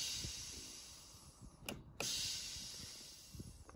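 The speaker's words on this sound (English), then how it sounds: "The sound you're hearing is that solenoid letting off the excess pressure so that when I stop honking with the button, the horn doesn't keep going" A truck air horn's Graham White solenoid blow-off valve vents excess air pressure as a faint, steady hiss. The hiss cuts out briefly, then resumes with a small click, quiet and close.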